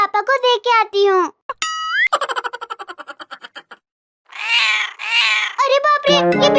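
Kittens meow in a Hindi animated comedy cartoon, giving several close, loud, rising-and-falling cries at the start. A springy boing effect and a pulsing cartoon noise follow, with harsher calls and a child-like voice near the end.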